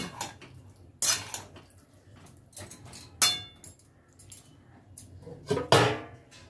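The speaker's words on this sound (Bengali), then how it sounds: "এবারে ঢাকা দিয়ে রাখবো মিনিট 7-8 জন্যে লো ফ্লেমে।" A lid goes onto a cooking pan to cover a dish simmering on low flame: several sharp, close metallic clanks and clatters come at irregular intervals, with quiet kitchen noise between them.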